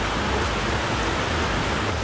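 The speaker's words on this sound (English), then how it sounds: "The rain's so heavy" Heavy rain pours steadily on a cycling route through Bosnia and Montenegro, a dense unbroken hiss at close range with no voices.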